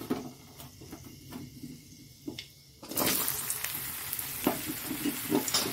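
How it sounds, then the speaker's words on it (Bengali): Potatoes tipped into a pan of hot oil with fenugreek, a quiet clatter first and then a sudden loud burst of sizzling that keeps crackling steadily, with no voices. "এবার এর মধ্যে আলুটা দিয়ে দিচ্ছি"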